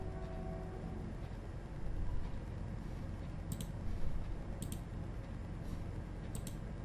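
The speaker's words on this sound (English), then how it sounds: "So just double up click it to extract this zip file." Computer mouse clicks opening a zip file on a Windows or Linux PC, a few sharp isolated clicks including a quick pair, fairly faint over steady background hiss.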